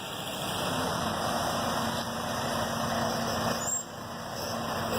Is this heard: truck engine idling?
yes